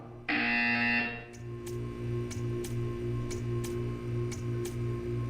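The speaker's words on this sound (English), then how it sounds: "When you hear the buzzer, stare at the art." In the video game P2:CE, a sharp buzzer blares for about a second, then a steady low buzzing hum continues with faint regular ticks sounding roughly every half second.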